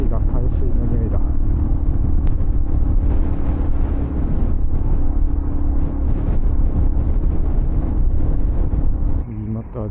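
Low rumbling road traffic in a jam on a coastal route between Côte d'Ivoire and Ghana, heard from a Honda Monkey 125 motorcycle. Idling engines drone close by with scattered clunks, and a person talks over it.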